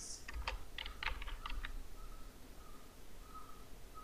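Keys clatter on a Mac computer keyboard in a quick, close burst of irregular taps, followed by quieter faint tones.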